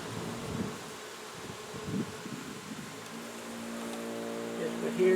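Honey bees buzzing around an open hive during a fall honey flow, a steady close drone with a rising hum near the end, while someone talks intermittently over it.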